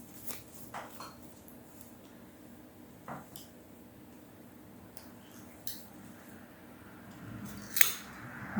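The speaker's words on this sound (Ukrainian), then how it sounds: "Я знімаю цей листочок, обрізаю квітонос." Scissors snip through an orchid's flower spike, giving a few quiet, scattered cuts and small clicks over a low background hum, with a slightly sharper snip at the end.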